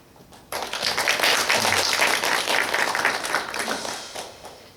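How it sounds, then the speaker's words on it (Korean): A church congregation applauds its Sunday school and youth teachers with dense, sustained clapping that fills the room. The applause starts abruptly, holds steady for about four seconds and fades slightly at the end. "우리 박수로 한번 축하 격려했으면 좋겠습니다."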